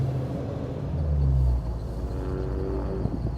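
A 1934 Plymouth engine pulls low and rumbling as the car accelerates while driving, with the pitch rising briefly and then settling into a steady drone, close and fairly loud.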